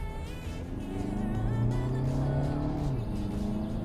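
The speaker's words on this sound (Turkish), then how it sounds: "Hakikaten sportif moddaysanız hızlı geçiyor vitesler" A 2019 Seat Tarraco SUV accelerating hard in sport mode with quick gear shifts; the engine note climbs steadily in a close, continuous drone.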